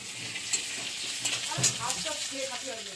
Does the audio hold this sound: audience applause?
no